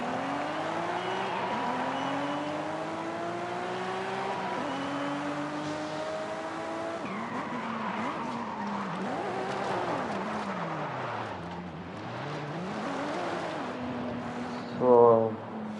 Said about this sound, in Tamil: வழக்கம் போல் நம்ம ட்ரிஃப்டை ஸ்டார்ட் பண்ணி ஒரு ரைடு போவோம்